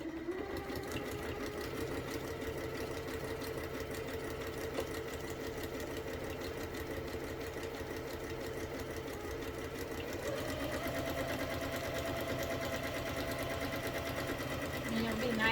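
A sewing machine stitches ribbon onto junk journal paper, a close, continuous mechanical whirring and rapid needle clatter that runs steadily throughout, growing slightly louder near the end, with a voice talking quietly underneath.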